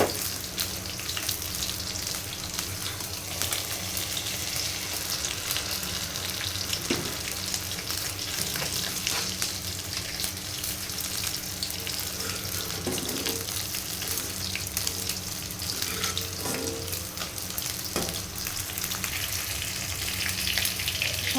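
Water spinach (kolmi shaak) stir-frying in a pan, a steady close sizzle with soft crackle running throughout, punctuated now and then by brief scraping stirs, with no talk.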